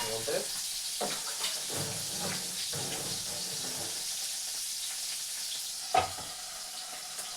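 Large fresh fish frying in a pan make a continuous bright sizzle with occasional stirring knocks and one sharp pop near the end, while someone talks nearby.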